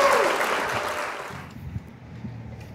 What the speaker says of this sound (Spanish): todos los pitis vamos a aplaudir